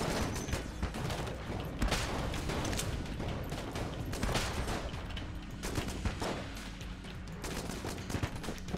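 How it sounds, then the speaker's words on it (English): A chain gun in the roguelike shooter Enter the Gungeon fires a dense, steady stream of rapid shots with mechanical clatter, moderately quiet and continuous throughout, with no talk. "It did like a chain gun shot."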